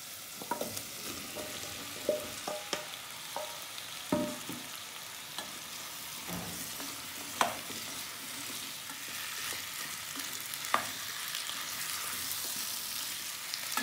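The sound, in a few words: stirring potatoes with sauce in a pan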